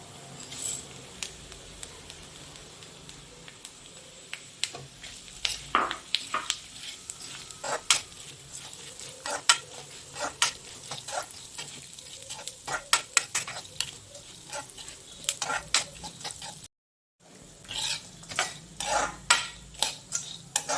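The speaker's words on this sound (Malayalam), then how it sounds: "ഇനി നമുക്ക് സൺഫ്ലവർ സീഡ് ഇട്ട് കൊടുക്കാം." Sunflower seeds stirred and dry-roasted in a pan after almonds give steady scraping and light rattling, with soft sizzle underneath and a brief silent gap near the end.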